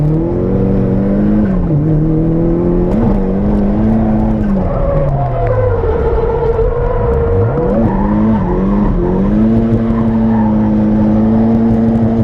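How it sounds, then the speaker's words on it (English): A Nissan Skyline R33 runs on a race track: a loud, close engine drone that holds, dips and rises again as it revs up and down, with a rough, continuous roar the whole time. "Oh, look, an R33,"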